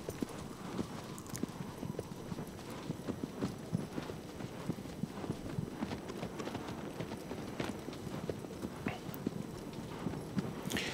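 Horse hooves clip-clopping in a steady galloping rhythm in the Shadow of the Colossus video game, moderately loud and continuous for the whole stretch, without speech.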